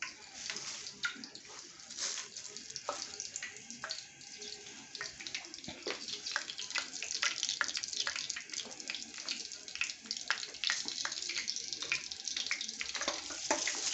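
Bean cake batter fries in hot grease in a home kitchen, a steady dense sizzle with scattered crackles and pops that grows slightly louder as it goes, with no talking over it.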